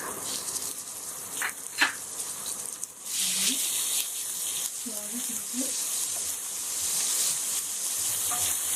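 Ginger paste, garlic and asafoetida (hing) fry in a pan with a steady hissing sizzle and occasional stirring scrapes, while a voice speaks briefly over it.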